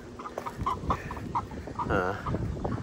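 Chickens of different ages clucking close by in a paddock shared with geese, giving a series of short, busy clucks and one drawn-out warbling call in the middle.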